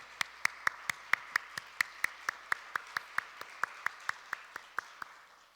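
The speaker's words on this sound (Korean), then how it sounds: "그냥 우리 박수로 환영하도록 하겠습니다" A small church congregation claps slowly and steadily to welcome visiting family members during a Sunday worship service, each sharp clap distinct and evenly spaced, about four per second, close and fairly quiet with no talking.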